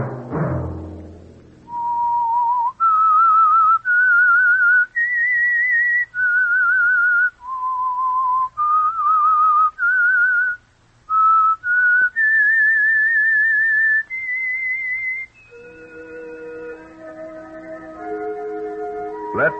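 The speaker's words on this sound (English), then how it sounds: "Let that whistle be your signal" A clear whistled melody of sustained, sliding notes, played solo with short pauses between phrases, ending on a brief musical flourish; the theme of the old radio program The Whistler.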